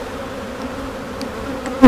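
Honeybees buzz steadily at close range around an open hive that is being inspected, a continuous droning hum with no talking.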